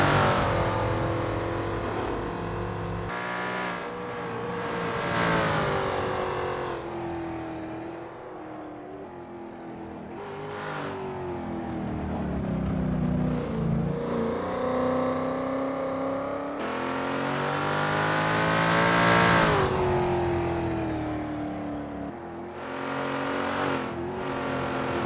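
A NASCAR-style race car in Assetto Corsa runs a practice out lap at Sonoma Raceway, its engine revving loudly through repeated upshifts and rising, falling pitch sweeps, steady and close without any talk.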